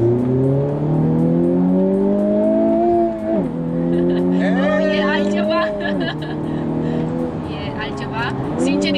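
A facelifted tenth-generation Honda Civic Type R is driven hard, its engine revving up through several gear changes with distinct drops in pitch between shifts, while a person talks inside the car.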